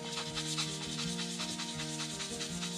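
Hand sanding an RC Jeep Cherokee truck body with 600 grit sandpaper, a steady, close rubbing rasp repeating in quick strokes over a constant background hum.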